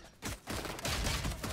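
Pistol gunfire in the shooter game Valorant, with a burst of shots after a short lull, the rest of the second packed with dense overlapping reports.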